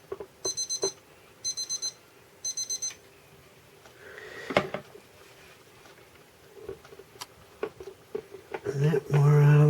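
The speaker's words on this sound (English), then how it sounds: "I'm going to tend to this alarm and be right back." Alarm clock beeping in three quick, evenly spaced bursts of bright electronic tones, fairly loud against a quiet workshop background with later clatter and a voice near the end.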